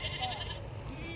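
A goat bleats at a farm where goats are kept and shown, a short mid-pitched call heard fairly close over low background rumble.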